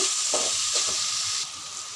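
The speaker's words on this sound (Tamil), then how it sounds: "எல்லா காயும் போட்டு கொஞ்சம் நல்லா ஃப்ரை பண்ணிடலாம். ஃபுல் ஃப்ளேமில் வச்சு பண்ணிடலாங்க" Mixed vegetables for prawn fried rice fry on full flame, giving a loud, steady hissing sizzle throughout, broken by a few light stirring scrapes in the first second.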